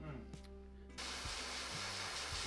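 After a brief quiet moment, a steady airbrush hiss spraying acrylic paint onto a model vehicle starts up close and continues evenly, with a faint low hum underneath.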